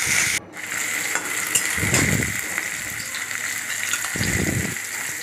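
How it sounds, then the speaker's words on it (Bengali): Salted paneer pieces fry in hot oil with a steady close sizzle, punctuated by louder bursts of crackling and stirring as the pan is worked; no voices. "এবার পনিরটা গরম তেলে দিয়ে ভেজে নেব।"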